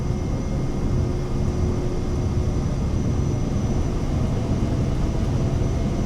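A simulated airplane in Microsoft Flight Simulator 2024 roars at full takeoff power on a runway in Alaska, with a dense, steady engine drone and no change in level throughout.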